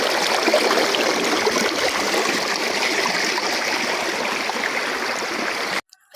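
River water used as a bathing spot rushes steadily close to the microphone, a loud continuous burble and splash with no voices, ending abruptly.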